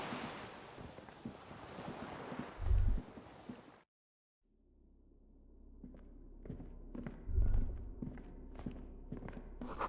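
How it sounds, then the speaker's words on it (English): Distant rushing water far below in the video game Disco Elysium, a steady low surf-like wash with wind, broken by a short silent gap and faint footstep-like ticks over the rumble. "Water rushes below, far down below."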